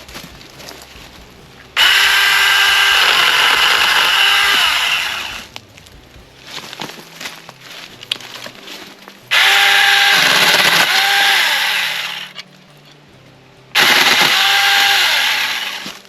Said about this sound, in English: when I am using this mini chainsaw